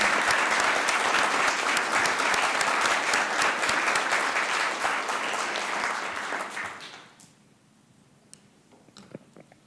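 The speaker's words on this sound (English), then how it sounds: "Give them one more round of applause." A council meeting audience in Columbus, Georgia applauds loudly and steadily for about seven seconds, then the clapping fades out abruptly into a quiet room with a few faint scattered claps.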